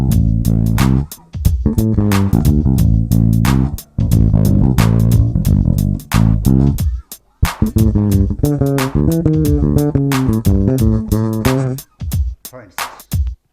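A bass guitar works through a chromatic blues bass line, with plucked notes stepping through passing tones in a steady groove, played solo and upfront with brief gaps between phrases.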